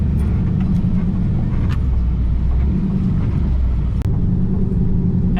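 A Ford Super Duty extended cab truck drives off-road, heard from inside as a loud, steady low engine and road rumble with occasional rattles and one sharp knock.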